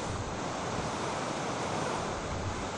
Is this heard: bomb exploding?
no